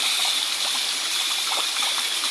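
Stream water at Antipolo Falls, a steady, loud rushing flow with light trickling and splashing detail, continuous and close with no voices.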